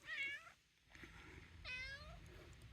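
A cat meows twice outdoors under peach trees, two drawn-out, fairly quiet calls separated by a short pause, with faint background noise.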